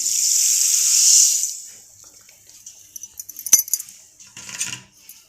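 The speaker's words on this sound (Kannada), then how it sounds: "ಇವಾಗ ನಾನು ಹೇಳಿದ ಒಂದು ಬೌಲ್ ಸಕ್ಕರೆ ಹಾಕೊತಾ ಇದ್ದೀನಿ" Sugar tipped from a bowl into a vessel of water for a fruit panaka drink: a steady pouring hiss lasts about a second, then a spell of scattered clinks and small rattles close by, with no one speaking.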